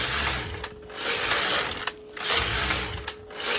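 A bulky knitting machine knits rows, its carriage sweeping back and forth in three long rattling, clicking passes separated by brief pauses, loud and close with no talk.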